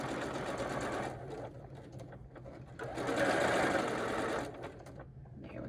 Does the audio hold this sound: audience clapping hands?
no